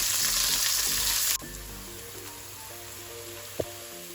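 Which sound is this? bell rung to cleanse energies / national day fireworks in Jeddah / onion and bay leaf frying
onion and bay leaf frying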